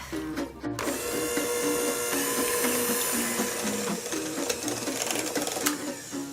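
An electric mixer whirs steadily as it beats a filling of sour cream, half and half and softened butter, a close, buzzing motor drone with slight rhythmic wobble.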